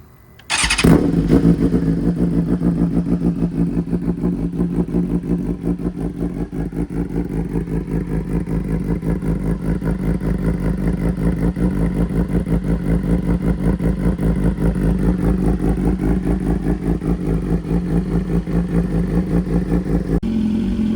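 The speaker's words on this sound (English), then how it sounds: "Let's get this startup going." A BMW S1000RR sport motorcycle with an Arrow Competition Evo titanium exhaust fires up abruptly, then settles into a loud, steady, throbbing idle that runs on without a break.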